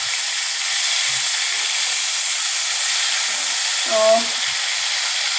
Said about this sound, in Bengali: আমার মাছটা একটু বেশ ভাজা হয়ে গেছে, এই তো আমি এখন উল্টে দিচ্ছি মাছের ওই সাইডটা